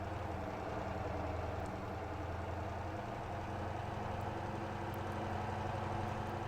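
Tanker truck engine in the Motor Town video game idling and lugging steadily, a deep continuous low rumble that stays even and close throughout with no talking.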